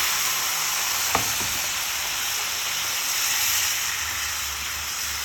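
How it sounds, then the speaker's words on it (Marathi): Loud, steady hissing sizzle as water is added to frying egg-curry masala, swelling and continuing for several seconds, with a single sharp clink early on; no talking. "थोडं पाणी घालणार आहोत आपण त्यात"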